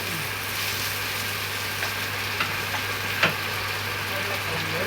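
Potatoes go into sautéing onions in a pan for a Jaffna-style long beans curry, giving a steady broadband sizzle with a low hum underneath and a few faint clicks.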